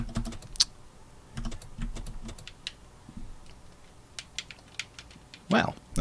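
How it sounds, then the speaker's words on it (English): Clacky computer keyboard keys typed in irregular bursts of sharp, close clicks, with quieter stretches between runs and some low background noise. "I was hoping to not have any clacky keyboard going"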